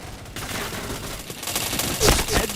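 Rapid bursts of video game gunfire crackle in quick succession, growing louder toward the end, with faint talk in the background.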